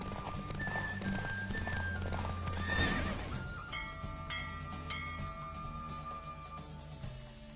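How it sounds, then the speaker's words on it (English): Horse hooves clip-clop at a gallop in the Witcher 3 video game, with a whinny and neigh near the start, a rising rush midway, and game music and chimes layered throughout. "Don't spare the horse."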